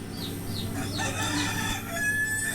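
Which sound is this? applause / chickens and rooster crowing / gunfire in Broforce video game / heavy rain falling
chickens and rooster crowing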